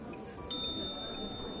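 A cafe service bell pressed once in the video game Rec Room, a sudden bright ding that rings out and fades over a low background hum.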